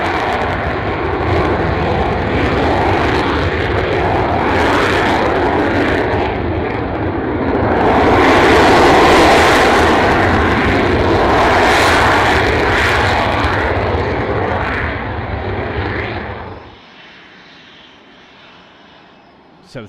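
Battle of Britain era propeller aircraft flying overhead, a loud sustained engine drone that swells to a peak as the planes pass, then drops away abruptly to quiet.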